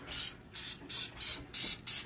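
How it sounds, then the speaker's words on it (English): Six short bursts of cooking spray hiss onto a grill pan in a quick, even rhythm, each a sharp puff of aerosol up close. "I'm just going to spray this just a little."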